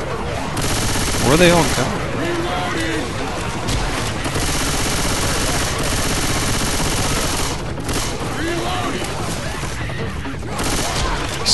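Left 4 Dead 2 gunfire during a woodland level, dense continuous shooting and crashing noise at close range throughout, with a player talking briefly over it.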